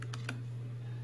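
A few clicks of computer keyboard keys being pressed, three quick taps near the start, faint against a steady low electrical hum, with no talk.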